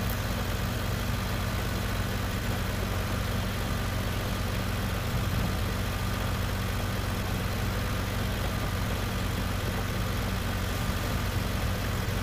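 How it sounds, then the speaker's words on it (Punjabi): A tractor engine working at full power pulls a new disc harrow while cultivating a field, giving a steady, loud, unbroken drone with heavy low rumble and no voices throughout. "ਟਰੈਕਟਰ ਦਾ ਫੁੱਲ ਜ਼ੋਰ ਲੱਗਾ ਵਾ"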